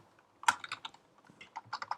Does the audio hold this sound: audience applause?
no